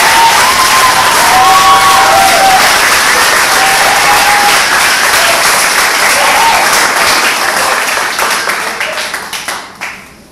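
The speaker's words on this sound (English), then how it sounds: "I think that these two young ladies here deserve a huge round of applause." A large audience at an Olympic committee event breaks into loud, dense applause with scattered cheers, holding strong for several seconds before tapering off into a few last claps.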